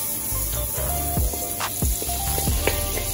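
Curry powder cooking out in plenty of butter for a Jamaican-style coconut curry chicken-foot dish sizzles steadily, with a few sharper pops and stirring scrapes over a constant frying hiss.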